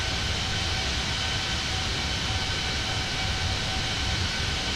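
Cabin sound of a Fenix Airbus A320 in Microsoft Flight Simulator, a steady, dense engine roar and airflow hum that holds constant with a faint tonal whine, loud and without talk.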